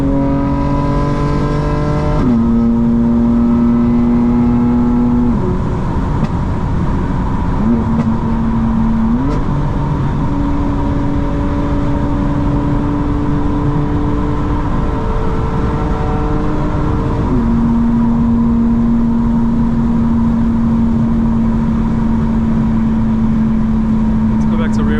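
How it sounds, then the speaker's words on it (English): A 2025 BMW M4 Competition xDrive's exhaust, with active sound design off, drones steadily from inside the cabin while driving, its pitch stepping up and down through gear changes, with occasional talk underneath. "the exhaust sounds a lot cleaner now without active sound design"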